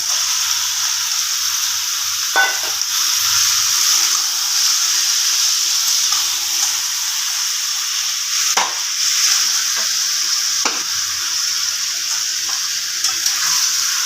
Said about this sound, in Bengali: এবার দিয়ে দেব ম্যারিনেট করা মাংসটা